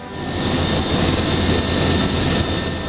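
A doctor helicopter carrying a trauma patient in flight toward a trauma center, its steady loud engine and rotor roar filling the scene continuously and close, with no voices.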